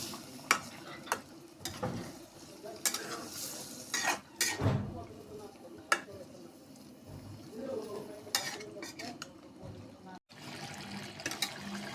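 River meni fish with onion greens cooking in a pan, stirred with a utensil: irregular clanks and scrapes against the pan over a soft low sizzle, close by.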